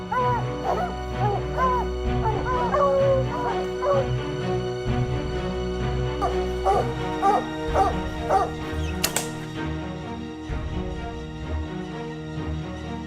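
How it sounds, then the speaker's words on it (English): A pack of trained hunting hounds bays and howls in long, wavering, repeated cries while pursuing a black bear, loud and sustained with several dogs overlapping, no talk. "These hunting dogs are specially trained to recognize bear scent."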